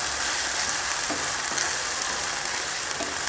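Chicken sizzles steadily in a hot pan with oil, a dense, even crackle of frying close up and alone, with faint stirring scrapes now and then.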